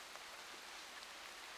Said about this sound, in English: Seems like in the virtual world the rain has arrived.